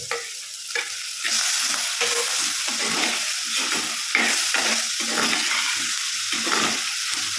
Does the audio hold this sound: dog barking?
no